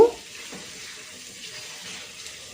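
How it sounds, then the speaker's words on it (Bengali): Green chillies and ginger-garlic paste fry in a pan for a village-style morog polao. A soft, steady sizzle runs throughout at a moderate level after a brief louder clank at the start, with no talking. "সবগুলো উপকরণ খুব ভালোভাবে আমি সময় নিয়ে ভেজে নিব"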